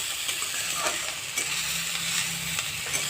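Potato peels and slit green chillies sizzle steadily in a frying pan, with soft scraping strokes of a spoon stirring them at a close, even level and no talking.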